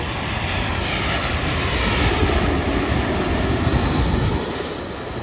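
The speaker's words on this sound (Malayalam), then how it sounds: "ഇത് അടുത്ത എ ത്രീ ട്വൻറ്റി വരുന്നുണ്ട്" An Airbus A320 jet airliner approaching Manchester Airport roars loudly and steadily close by, its engine noise building slightly as it approaches, with no voices.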